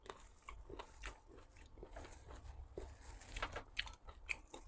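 Close-up crunchy chewing of blanched fish meat dipped in sauce, a run of irregular crisp bites and mouth clicks, quiet and intimate with no talking.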